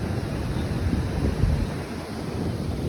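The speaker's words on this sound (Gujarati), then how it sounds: "પાણી તો તમે જુઓ જુઓ જો અહીંયા જોજો થાય હમણાં આ મોજું આવે" Sea waves wash near Sudama Setu in Dwarka, a steady, broad rushing roar mixed with wind buffeting the microphone, continuous and fairly loud throughout with no clear individual breakers.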